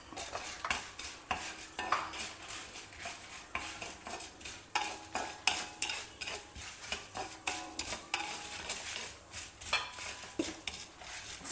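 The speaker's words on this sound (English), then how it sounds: "Fry the chillies also." Whole dry red chillies, black pepper and cumin seeds fry in a pan while a spoon stirs them, giving rhythmic scraping taps against the metal over a light sizzle, with no talking.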